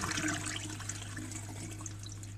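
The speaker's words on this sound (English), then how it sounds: "when we flush it, we give it a good adequate rinse and make sure everything goes down so that it's clean" A 1940 Standard urinal flushes with a steady rush of water, close and continuous for a couple of seconds over a low hum.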